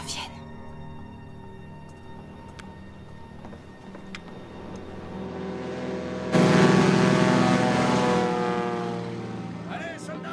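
A propeller airplane drones in the background of a war film scene. The engine grows steadily louder and jumps to a strong, sustained roar partway through, then eases slightly.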